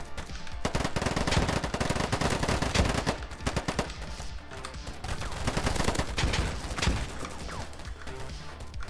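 Dense, loud video-game gunfire in a Battlefield-style multiplayer match on the Metro map, with rapid automatic bursts and overlapping shots rattling almost continuously throughout.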